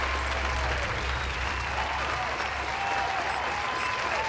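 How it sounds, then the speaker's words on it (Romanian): Steady applause fills the whole stretch, a continuous even wash of clapping at a moderate level with a low hum underneath, during a Need for Speed Most Wanted PC game session. "Aplauze pentru toată lumea."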